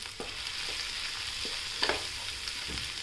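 Potato bhaji for a curry-style dish frying in a pan with chilli, coriander powder and turmeric, a continuous sizzle with soft scraping stirs at intervals, close up and without speech.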